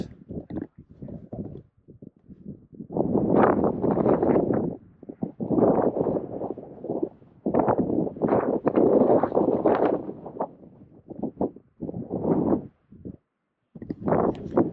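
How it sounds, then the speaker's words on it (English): Wind gusts buffet the microphone at the Grand Canyon rim at night, coming as loud low rumbling bursts separated by short lulls. "It's windy up here tonight"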